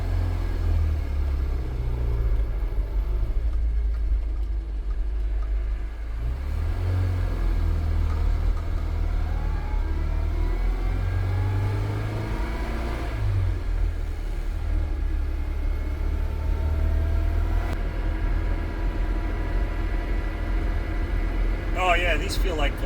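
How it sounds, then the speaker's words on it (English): A car on a road test with newly balanced wheels hums and rumbles steadily from inside the cabin, with the engine note rising and falling as it drives and a voice speaking at times. "Road test of newly balanced wheels."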